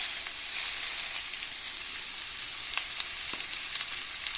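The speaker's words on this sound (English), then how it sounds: "I'm going to drop those filet mignons" Filet mignon sears steadily in browned butter in a hot pan, giving a dense, even sizzle with scattered crackling pops and no talking.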